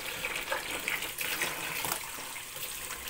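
Water runs steadily from a tap for a three-month-old puppy's first bath, a continuous hissing splash with slight fluctuations and no voices.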